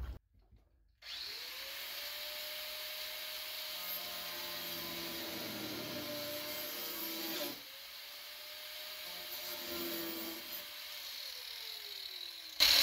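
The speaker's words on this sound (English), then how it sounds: "even though it doesn't cut stone, it sure cuts plastic" A worn stone-cutting blade on a power tool cuts through plastic, a steady loud whine rising and falling across two long cutting passes, with a short gap between them.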